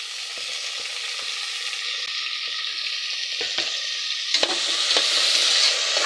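Tomatoes tip into a pan of browned onions with two dried red chillies and a green chilli, frying in a steady sizzle that builds louder, with scattered clicks and scrapes of stirring close by.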